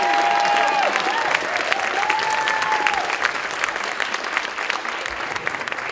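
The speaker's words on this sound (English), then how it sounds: "give a round of applause to our volunteers" A crowd applauds its volunteers at the Beantown Revue 2024 stage show, a dense burst of clapping that starts loud and gradually tapers over a few seconds, with a few voices mixed in.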